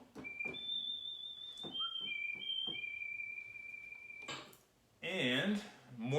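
Thin whistle tones from a Casio CZ-1000 synthesizer preset hold long pure notes amid clicks and clatter, followed by a short burst of voice.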